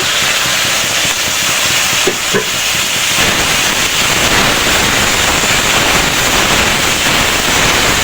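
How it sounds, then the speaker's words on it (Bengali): Spice paste of cumin, coriander and red chili powder fries loudly after water goes into the hot pan for chicken tehari, a dense, close crackling sizzle that swells and holds steady throughout, with no talking. "কিছুটা পানি দিয়ে দিলাম মশলাটা ভাজার জন্য"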